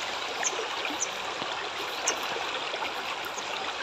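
Water flows in a river, a continuous close rushing and babbling with small splashy gurgles rising now and then, heard alone without talk.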